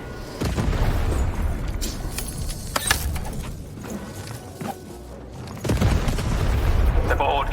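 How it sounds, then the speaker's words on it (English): A cannon fires in the video game Lost in Random, with booming blasts and rumbling impacts amid busy game sounds and a voice speaking over parts of it. "Shoot the button to fire the cannon."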